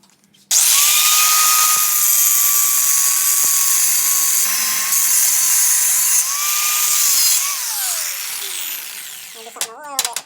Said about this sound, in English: Angle grinder and a cutoff wheel.